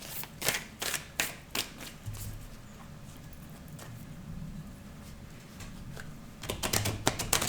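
Tarot cards being reshuffled by hand, a run of crisp riffling snaps and taps at the start, a quieter soft shuffling stretch in the middle, then another burst of sharp card slaps near the end, close up with no talking.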